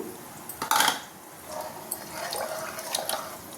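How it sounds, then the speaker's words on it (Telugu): Tamarind extract poured into a pot of ivy gourd dal on a home kitchen stove, a soft liquid splash and trickle with light clinks of a pot or utensil, fairly quiet and brief, with no talking. "ఇప్పుడు వచ్చేసి చింతపండు పులుసుని యాడ్ చేద్దాము"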